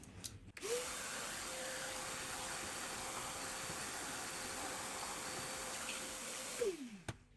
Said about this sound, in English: Now let me just vacuum it up a little bit.